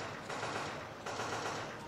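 Rapid gunfire bursts in a zombie shooter video game played with a Sixense motion controller at a trade show booth, two short bursts of automatic fire, fairly faint, with no talking.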